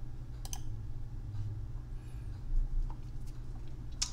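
A computer mouse clicks while a chart is set up in a spreadsheet exercise, giving a couple of faint, sharp clicks spaced apart over a steady low hum.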